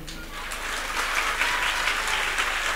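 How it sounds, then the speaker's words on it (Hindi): An audience at a Hindi-language family gathering claps in a loud, dense, continuous round of applause with no break. "ताली बजा करके आशीर्वाद देते हो आप सबो"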